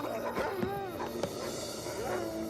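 A dog gives a few short yips and whimpering barks over a steady background hum, moderately close.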